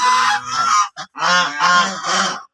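Raja hans geese honk loudly and close by, giving two long overlapping bursts, a brief squawk, then more sustained calling with no voices.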